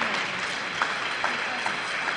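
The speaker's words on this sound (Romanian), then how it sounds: "Încă o dată aplauze." Applause from an audience at a human rights awards gala in Moldova, moderately loud and continuous, with a few sharper individual claps standing out near the end.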